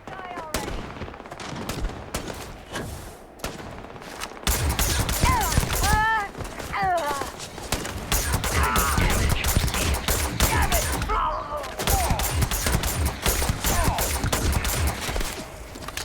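Sustained gunfire from the space game Starfield: rapid automatic bursts and repeated loud shots over about sixteen seconds, with brief lulls and a voice talking in between.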